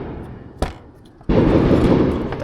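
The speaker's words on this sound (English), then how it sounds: "People have some serious fireworks." Fireworks go off outside a workshop: one sharp, fairly distant bang, then a sudden loud, sustained rumbling crackle that continues to the end.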